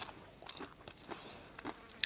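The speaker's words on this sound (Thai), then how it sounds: "เสียงแมงวัน มาบินให้ฟังบ้างนะอ่ะ" A fly buzzes close by in an outdoor setting during a meal of shrimp in fish sauce, a faint steady whine with a few brief soft knocks, and a sharp click at the end.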